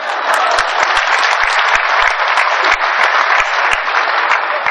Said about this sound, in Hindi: ताली तो इस बात पर बजा देना साहब